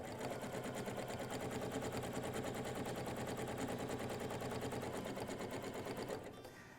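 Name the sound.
sewing machine free-motion stitching yarn couching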